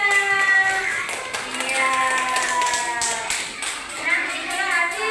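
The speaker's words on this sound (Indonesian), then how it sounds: "Tepuk tangan buat teman-temannya." Children in a classroom clap for their classmates, a brief patter of small hands under a voice and a teacher's speech.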